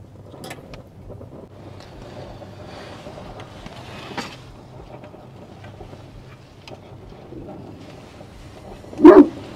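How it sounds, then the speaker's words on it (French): Dogs in a foggy forest let out a few faint, distant barks and whimpers through quiet ambience, then one louder bark close to the end. "les chiens réagissaient comme s'ils avaient réellement vu quelque chose"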